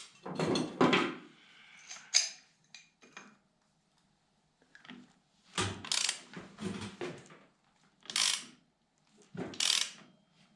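A ratchet with a 19 mm socket works on a fastener of a 2004 Honda XR125 motorcycle, giving several bursts of close, crisp clicking separated by pauses.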